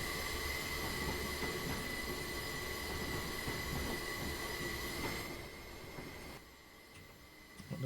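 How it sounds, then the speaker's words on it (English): A train pulls into a platform in the Train Simulator 2017 game on the Portsmouth Direct line, with steady rolling rumble and high wheel squeal throughout before the noise drops away as it slows near the end. "The train coming in."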